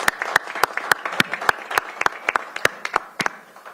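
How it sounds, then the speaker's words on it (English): A small audience at a Pierce County Council meeting claps for America's strongest man, a sparse, uneven patter of individual hand claps close by. "Let's give him a round of applause."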